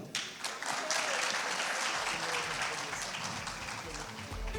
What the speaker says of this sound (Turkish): Alkışlarla yılın en iyi erkek dizi oyuncusu Kerem Alış'ı yerine uğurluyoruz, tebrik ediyoruz